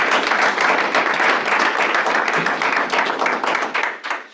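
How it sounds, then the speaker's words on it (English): An audience at a stakeholder meeting applauds with dense, steady clapping that continues for several seconds and then tapers off toward the end. "Let's give these marvelous ladies a round of applause."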